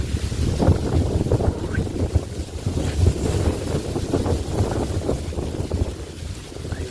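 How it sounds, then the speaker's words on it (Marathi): Strong wind buffets the microphone continuously with low rumbling gusts, over what sounds like open water; no speech. "असं भारी वारा चालू आहे ना, लय भारी वारा"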